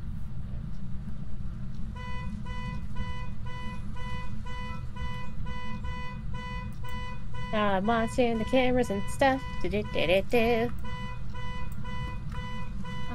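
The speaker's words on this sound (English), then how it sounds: "who was making the car alarm go off?" Car alarm in a ghost-hunting video game, a repeating electronic siren tone that pulses steadily through most of the clip and turns into rapid warbling bursts midway, heard under casual speech.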